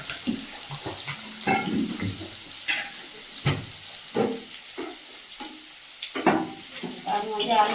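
Spices being stirred and sautéed in a pan with turmeric and salt, with intermittent sizzling and scraping strokes close by, each burst followed by quieter frying in between.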